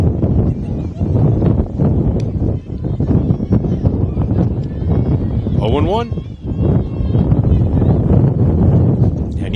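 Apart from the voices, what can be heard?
strong gusting wind on microphone at softball game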